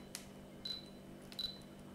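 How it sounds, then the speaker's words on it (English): Fujifilm X-T20 mirrorless camera firing its shutter twice, each single-shot autofocus lock and release giving a quick, crisp click with a faint high chirp, close up over a low steady hum. "I push the shutter button and it's instantaneous."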